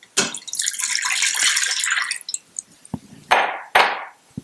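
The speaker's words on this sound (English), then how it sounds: "So we are going to add 2 cups of water to the Instant Pot." Water pours into an Instant Pot in a steady stream for about two seconds, then a few separate splashes and drips follow, close and clear with no talking.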